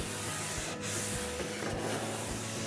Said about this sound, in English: So we can burnish using standard steel wool,